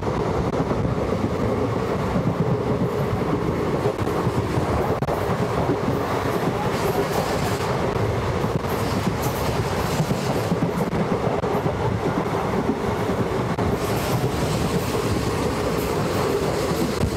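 A passenger train rolling between Jaunpur and Aunrihar junctions in India, heard from inside the coach as a loud, steady rumble with rhythmic clickety-clack of wheels over rail joints throughout, no talk.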